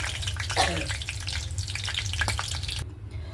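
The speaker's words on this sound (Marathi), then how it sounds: "सगळे पॅटीस तळून झाले आता मिरच्या तळते" Green chillies fry in hot oil after a batch of bread patties, giving a steady close crackle with bursts of spitting and a low rumble underneath, stopping abruptly near the end.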